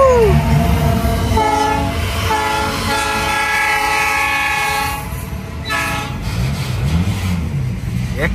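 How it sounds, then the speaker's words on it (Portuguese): A train passes close by in the morning, its horn sounding in long sustained blasts over steady rumbling wheels, with people's voices and an excited shout mixed in near the end. "Ó, olha o trem. Vem passando nas águas da manhã."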